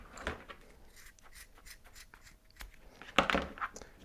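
Scissors cutting a strap to length, with small quiet snips and rustles, then one sharper, louder cut near the end.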